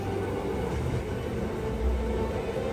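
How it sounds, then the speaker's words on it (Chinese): Bernina Express train climbing a winding uphill grade through the Alps, steady loud rumble of the rail cars with a continuous low roar and faint wheel noise, no voices. "此时列车开始蜿蜒上坡"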